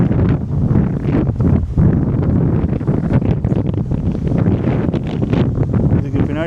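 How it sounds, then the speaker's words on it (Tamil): Cold mountain wind in Spiti Valley buffets the microphone in continuous loud, rumbling gusts that last the whole stretch, with no clear speech over it. "நல்லா சில்லுன்னு காற்றடிக்குது."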